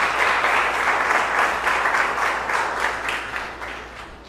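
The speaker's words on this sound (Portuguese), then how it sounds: "Aplauda o Rei Jesus." Sustained applause from a church congregation after a sermon on hell, steady and full throughout, tapering slightly toward the end.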